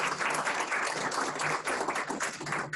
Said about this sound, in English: Let's do a round of applause for all of our presenters.